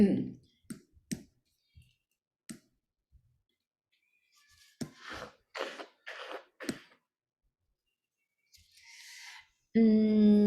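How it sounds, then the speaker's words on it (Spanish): Sharp computer mouse clicks, a handful of isolated taps spaced apart, close and dry, with a voice speaking between them in a screen-guided lesson. "Damos clic a donde dice rúbrica"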